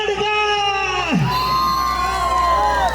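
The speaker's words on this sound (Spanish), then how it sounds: "Un aplauso para Paltamarga." A crowd at the Palta y Guarapo festival in Pachamarca cheers and whoops for a competing couple. Shouted yells with falling pitch rise over a continuous background din.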